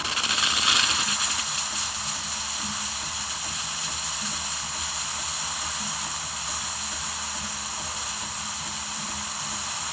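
Strong steady steam hissing from a 220-volt UK-version DeLonghi Magnifica espresso machine's steam wand, a loud continuous rushing spray with a brief louder burst at the start.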